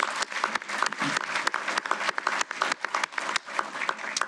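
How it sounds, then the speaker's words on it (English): An audience claps at a Defense Logistics Agency Hall of Fame 2024 ceremony, dense steady applause from a full room holding at an even level, with a faint voice now and then beneath it. "Please join me in a round of applause for these folks."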